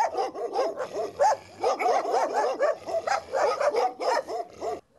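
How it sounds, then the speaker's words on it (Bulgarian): Several dogs at a neighbouring house in a Bulgarian village bark loudly and repeatedly in quick overlapping bursts, close by, with a few yips mixed in. "кучетата на нейни съседи и пречат, защото лаят много силно и я плашат."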